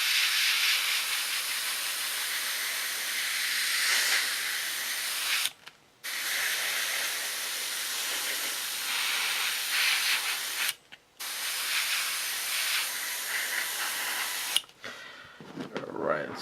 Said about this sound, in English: blow dry it, and I think that'll probably much be good